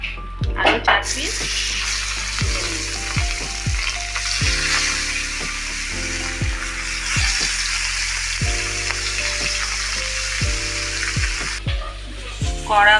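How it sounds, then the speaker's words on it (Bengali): Pieces of katla fish fry in hot oil with a dense, steady sizzle, broken by a few clinks of a utensil against the pan near the start and end. "মাছ ভাজা হচ্ছে। খুব কড়া করে ভাজবো না, একটু হালকা ভাজবো।"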